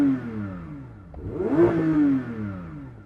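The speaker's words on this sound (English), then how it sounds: "The old Porsche GT trick of putting it in drive, pulling up both paddles, and then it lets you rev it out while the car's stationary" Porsche 911 GT3 engine revved hard while the car sits stationary, rising in pitch to a peak and falling back, loud and close with no talk over it.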